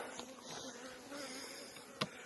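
Faint, steady insect buzzing of honeybees at a nucleus hive fills the background, with a brief sharp knock near the end.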